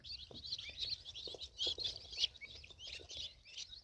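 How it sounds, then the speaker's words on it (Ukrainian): Newly hatched guinea fowl chicks from an incubator chirp continuously, a dense chorus of high, overlapping peeps close by. "Отакі от цесарятка."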